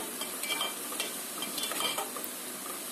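Freshly ground ginger garlic paste frying in a pan with green chillies for Telangana-style bagara rice, a steady close sizzle with a spoon stirring and scraping throughout.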